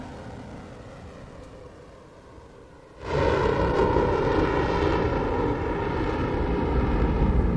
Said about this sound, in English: And liftoff of the Blue Origin New Shepard.